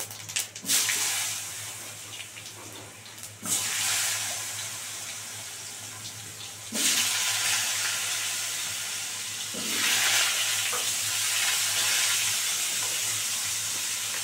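Potatoes dropped into hot oil with bay leaf and cumin crackle into a loud hiss, the sizzle swelling in bursts as more pieces go in and being stirred, with no talk.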